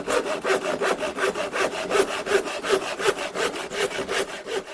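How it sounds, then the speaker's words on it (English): A carpenter's hand saw cuts through wood in a steady back-and-forth rhythm of rasping strokes, loud and close and continuous, with no talking. "He used his saw to cut the wood."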